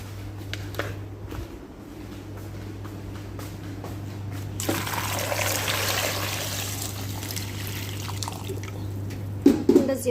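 Water is poured into a pot for boiling potatoes: a few drips and trickles at first, then a steady rushing pour for several seconds over a low constant hum, ending with a couple of clinks.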